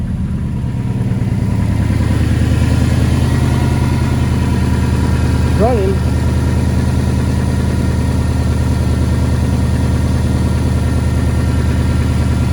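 A 2003 Subaru WRX engine idles steadily and close by after its first start-up following a battery install, a constant low hum with a brief spoken word partway through.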